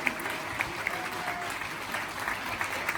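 An audience claps steadily at a welcome ceremony, a continuous, moderately loud wash of applause with scattered sharper claps throughout.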